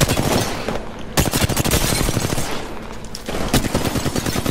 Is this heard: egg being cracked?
no